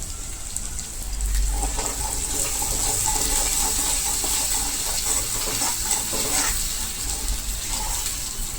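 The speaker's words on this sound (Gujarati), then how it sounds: "જોઈ શકો છો ને મસાલા સરસ રીતે શેકાઈ ગયા છે।" Spices with turmeric and salt roasting in a pan for a raw banana curry, a steady close sizzle with soft scraping from stirring, running continuously with no talk.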